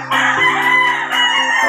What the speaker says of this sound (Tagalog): ito po ang ating pangalawang manok